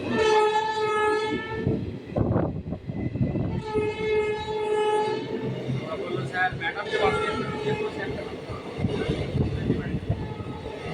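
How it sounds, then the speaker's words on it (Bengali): A train horn sounds repeatedly in long blasts over the steady rumble of a passenger train slowly passing through a station toward Sealdah, with voices faintly in the background. "সামনে দিয়ে বেরিয়ে যাচ্ছে লাল গলা প্যাসেঞ্জার ট্রেনটি যাচ্ছে শিয়ালদাহর দিকে"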